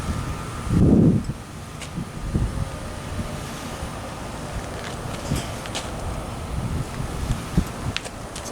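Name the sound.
breezy wind blowing outdoors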